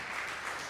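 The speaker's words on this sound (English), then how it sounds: "for you all should clap for yourselves" A church congregation claps together during a Sunday service, a brief, steady patter of applause heard from a distance and at low volume, with no talking over it.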